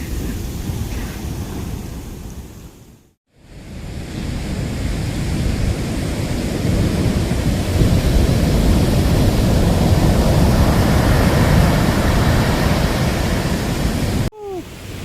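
Ocean surf at Kelingking Beach on Nusa Penida, Bali, rushes as a steady, loud broadband roar, with a brief dropout early on and another near the end.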